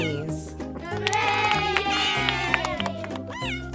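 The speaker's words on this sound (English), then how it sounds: "It's a cat. Siamese." A Siamese cat meows in drawn-out, wavering cries that bend up and down in pitch, loud and close over a backing of steady musical tones in a children's animal-sound lesson.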